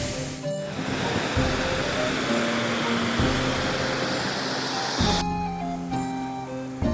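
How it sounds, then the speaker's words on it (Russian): A steady rushing roar of a mountain waterfall linking two lakes in the High Tatras, broad and continuous, with faint tonal hum over it and no talk. "Это водопад, который соединяет два озера."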